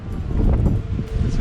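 Strong wind at Icy Strait Point, Hoonah, Alaska, buffets the microphone with a low, rumbling roar that gusts unevenly throughout.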